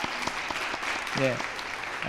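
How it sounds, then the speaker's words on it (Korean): A church congregation claps in welcome during a Sunday afternoon service, a steady, fairly soft wash of applause with a voice speaking briefly over it. "박수로 환영하겠습니다"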